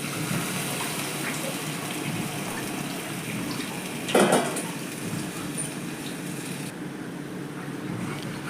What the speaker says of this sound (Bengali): এবার এই কষানো মশলার মধ্যে আমি অল্প পরিমাণ জল দিয়ে দেবো।